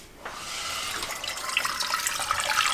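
Water pouring steadily into a pot, about one and a half cups, for vegan candied sweet potatoes; a continuous close splashing rush that builds slightly over a few seconds with no talking.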